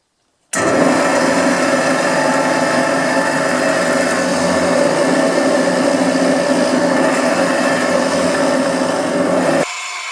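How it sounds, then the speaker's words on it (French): A power drill bores dowel holes in wood for homemade wooden hinges, a steady loud whirring grind running for about nine seconds after an abrupt start, then cutting off, with no talk. "Nos 4 perçages sont faits."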